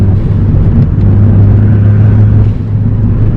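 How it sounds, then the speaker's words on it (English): A tuned Ford Focus ST with a hybrid turbo gives a loud, steady engine rumble and drone, heard up close for a few seconds with no voices. "But you can get some turbo noises."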